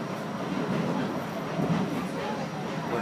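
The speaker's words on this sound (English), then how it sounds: "We're on a tram, yeah." Ride aboard a Gold Coast G:link light-rail tram near Surfers Paradise: a steady low rumble of wheels on track and cabin hum, with soft murmurs of speech in the background.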